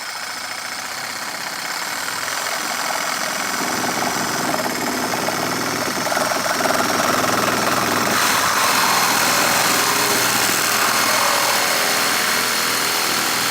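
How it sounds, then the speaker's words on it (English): A Sawzall reciprocating saw fitted with a long metal-cutting blade cuts through a headlight dust cover clamped in a vise, giving a loud, steady buzzing rasp that runs close and continuous throughout, with no talking. "because we're going to be cutting this with a Sawzall."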